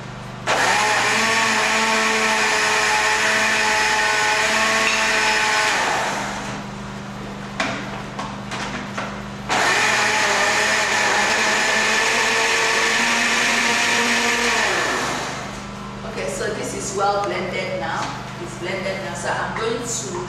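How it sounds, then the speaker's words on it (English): A blender purees soup ingredients with water for gbegiri in two long, loud, steady whirring runs separated by a short pause, followed by light kitchen clatter. "So I'm going to blend all these ingredients together."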